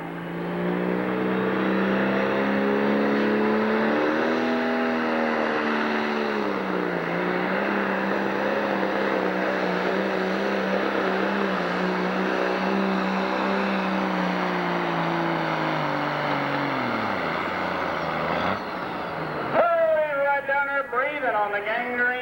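A Case 1170 tractor with a 504 replacement block roars loudly at a 1997 tractor pull in Sandwich, Illinois, engine note climbing and sustained for many seconds, then dropping off, with an announcer's voice over it.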